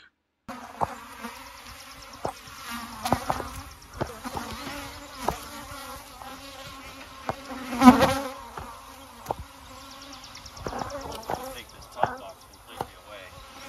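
A rescued honey bee colony in a hive hums steadily with a thin buzz, broken by sharp knocks and taps, a louder burst in the middle, and talk passing over it.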